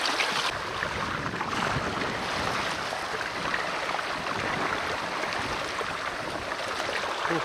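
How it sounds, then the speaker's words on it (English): KaaNoo sailboat running downwind along a coastal waterway, a steady wash of water rushing along the hull with wind noise, continuous and fairly close, no voices. "KaaNoo is just moving through the water like a KaaNoo"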